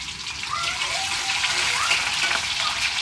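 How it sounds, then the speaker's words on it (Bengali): Onions dropped into hot oil in a kadai (wok), giving a steady, dense sizzling hiss that fills the whole stretch, with faint, brief sounds in the background. "যে এই 10টার কড়াই তেল গরম হয়ে গেছে, এই জন্য পেঁয়াজ ছেড়ে দিল"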